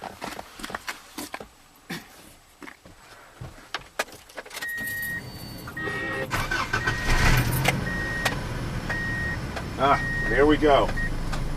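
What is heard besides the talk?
Subaru engine starting and idling smoothly after fuel pump fix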